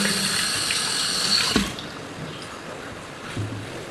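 Tap water running into a sink while feet are washed, a loud steady rush with a splashy shift partway through as the stream is disturbed, close by and alone.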